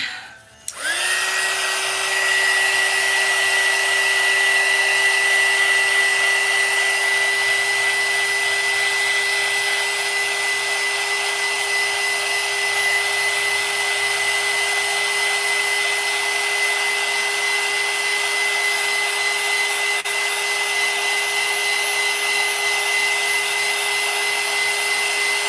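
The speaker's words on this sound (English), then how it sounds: "let me use the blow dryer on it" A blow dryer runs continuously on a fairy garden roof, switching on with a brief start and then holding a steady, loud, close whir with a constant whine for the whole stretch.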